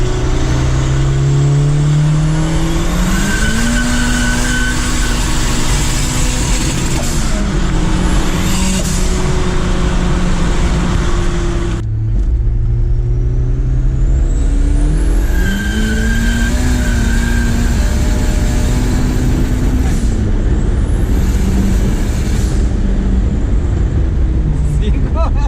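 A race car fitted with a ZR 5449 turbo accelerates hard around a track, its engine note climbing through the gears in two long loud runs with brief lifts between shifts.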